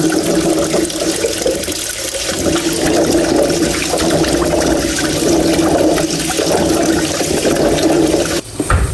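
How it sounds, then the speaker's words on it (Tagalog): Noni fruit being washed and drained, a loud, continuous rush of running water close by that cuts off abruptly near the end. "Ito po yung hugasan na natin at akin pong i-drain."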